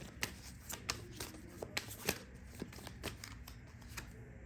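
Tarot cards being shuffled by hand to draw another card: a close, steady run of crisp riffling clicks and soft slaps repeating roughly every half second, with no talking.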